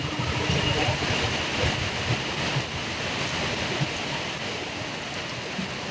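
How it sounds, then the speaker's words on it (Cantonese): Heavy rain pours down in a steady, dense hiss that stays loud and unbroken throughout, with no clear individual drops standing out. "越落越大雨添嘛。"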